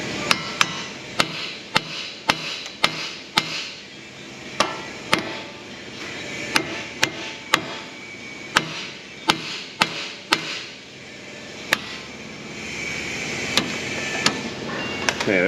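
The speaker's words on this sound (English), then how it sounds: "Hammer time." Repeated sharp metallic hammer blows on Ford Explorer suspension parts during a teardown, struck at an irregular rhythm of roughly one or two per second, close and loud over a steady background hum.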